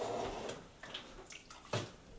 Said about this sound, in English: So as this water is flowing off of our grains, it's taking off basically all the sugars and everything off of the grains.